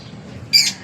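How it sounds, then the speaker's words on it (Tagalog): Pet birds, among them a pair of green ones, give one short, sharp squawk near the end, rising briefly above a quiet background hum. "Ito yung mga ibon ko rito."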